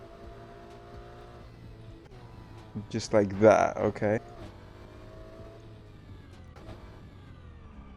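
Race car in a racing video game: a steady engine drone with a brief surge of revving and tire squeal midway, while someone talks over it.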